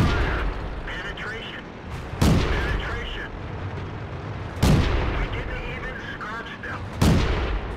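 Three heavy cannon shots from a Pz38nA tank in World of Tanks on the El Halluf map, each a sharp loud boom spaced a couple of seconds apart, over a steady engine rumble and continuous talk.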